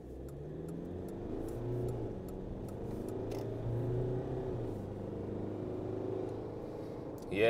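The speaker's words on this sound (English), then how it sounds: "So what's the acceleration like from the Triton?" Mitsubishi Triton twin-turbo pickup accelerating from a standstill, engine note rising through a couple of gear changes as heard from inside the cab, a steady moderate drone with no talk over it.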